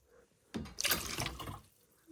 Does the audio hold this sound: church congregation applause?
no